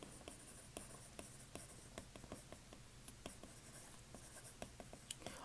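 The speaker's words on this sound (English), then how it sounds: "So let's write this down." Pen or marker writing notes on a board or paper during a statistics lecture, a steady series of short scratchy strokes and taps against a faint room hum, close and moderately quiet, with no talking.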